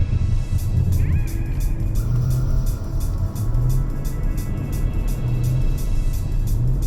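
Dodge Charger spinning donuts in a snowy parking lot, a steady loud engine drone and rumble with tire noise, the revs holding high throughout with no talking.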